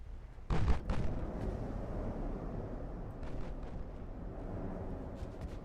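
A battleship shell slamming into a transport ship in a naval warfare game, one loud booming impact early, then a rumbling low roar with faint distant thuds.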